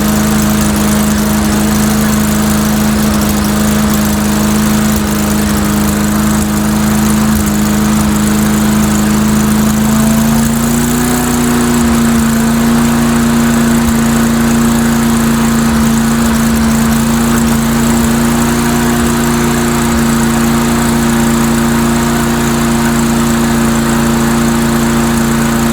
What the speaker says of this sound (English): let me increase the RPM a little bit